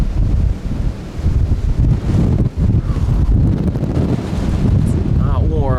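Strong winter wind gusting around 50 miles per hour during light to moderate snow at night, a loud continuous roar buffeting the microphone with steady rumble throughout.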